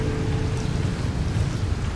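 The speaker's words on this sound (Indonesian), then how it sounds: "Ini keadaan di Kampung Penggiliran Baru nih seperti ini nih, hujan, air masuk ke rumah ya." Heavy rain in a village neighbourhood as floodwater flows into houses, a dense continuous wash with a low rumble, steady and close, with no voices.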